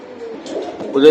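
Maltese pigeons, chocolate-coloured, coo in a short low burst close by, with a voice talking over the birds and growing louder at the end.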